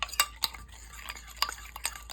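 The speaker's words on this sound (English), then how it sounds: "I'm just gonna mix it just a little bit with a little water," Breadcrumbs being stirred with a little water in a bowl while preparing a whole roasted chicken with herbs and potatoes, a few soft scraping and clinking strokes at an irregular pace, close and fairly quiet.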